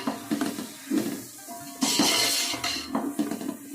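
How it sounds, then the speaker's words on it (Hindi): Sliced tomatoes frying with beef in a pot give a soft, uneven sizzle and hiss with stirring scrapes, and a louder hissing surge at about the two-second mark. "ये डालेंगे और टमाटरों को फ्राई कर लेंगे"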